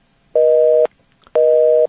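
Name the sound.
telephone busy tone after the call disconnected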